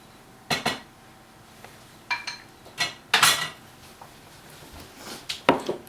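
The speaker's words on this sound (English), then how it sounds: "we will scoop some of the meat and sauce mixture" Bolognese meat sauce is scooped from a pot, producing a series of close metallic clinks and scrapes of a utensil against the pot, spaced irregularly in short bursts over several seconds.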